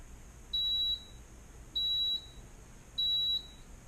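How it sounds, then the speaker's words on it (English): A Sofia Professional oven timer sounds three evenly spaced high-pitched electronic beeps, each about half a second long, clear against a quiet kitchen background. "once the timer is completed counting down, you'll get a beeper"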